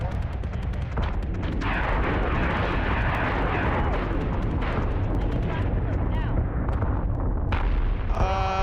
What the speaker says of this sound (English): I'm just watching rapid gunfire fire out of these berserks